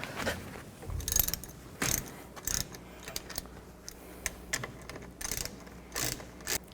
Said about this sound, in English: use a 18mm socket. I'm just going to loosen this top one up.